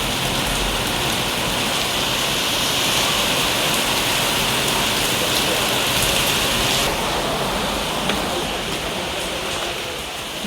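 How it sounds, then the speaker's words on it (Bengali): Heavy storm rain pours down without a break, a dense, loud, steady hiss of drops pounding surfaces that holds unchanged to the end, with no voices. "অজস্র ঝড় বৃষ্টি হচ্ছে, বিশাল জোরে।"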